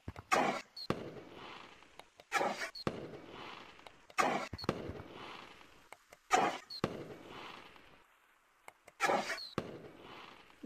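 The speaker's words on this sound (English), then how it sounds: "This firework thing's cool!" Repeated bursts of a Roman-candle-style firework in Gorilla Tag, each sharp launch followed by a fizzing crackle, firing at regular intervals with quiet gaps between.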